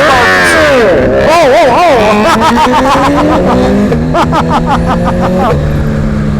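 BMW M 1000 RR motorcycle taking off into a wheelie, its engine revving hard and rising through rapid gear changes, loud and close, with voices talking over it.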